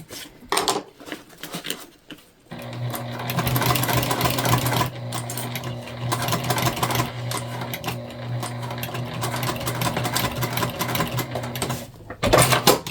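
A sewing machine stitching a self-drafted tote bag runs in one long steady whirring burst, loud and close, with brief handling knocks before and after.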